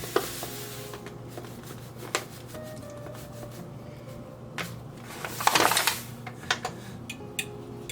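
Five egg yolks and sugar are whisked together in a bowl, giving quick clicking taps and scraping strokes, sparse at first, then a brief vigorous flurry, over a faint steady kitchen hum.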